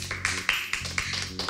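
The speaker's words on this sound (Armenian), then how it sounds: "Ծափահարություններով" Rhythmic audience clapping from a studio crowd at a televised Armenian talent competition, steady beats about four per second over stage music, moderately loud.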